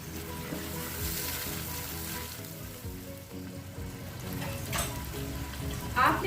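Chopped onions go into hot oil for a village-style haleem and sizzle steadily, with a brief louder crackle near the end as they are stirred, close and continuous with no talking.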